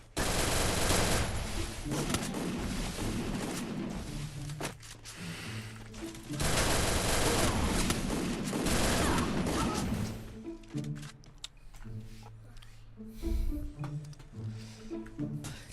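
Rapid automatic gunfire from a shooting video game, loud dense bursts of shots and impacts for about ten seconds, then sparser scattered shots with brief pauses, with a little talking mixed in.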